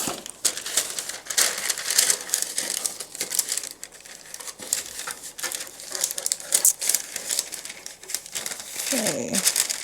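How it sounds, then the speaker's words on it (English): Parchment paper crinkles and crunches as it is pressed into a cake pan for pound cake, with continuous close, crackly rustling that runs in irregular bursts throughout. "I'm gonna add a piece of parchment in this."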